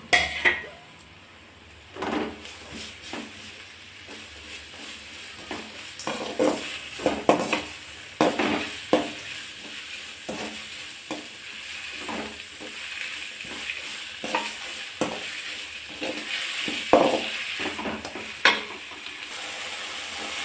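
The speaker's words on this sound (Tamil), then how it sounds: "நல்லா வதக்கணும்." Onion, tomato and capsicum sauté in an oiled pan, with a continuous low sizzle broken by frequent scraping and clanking spatula strokes against the metal, close and uneven in rhythm, without speech.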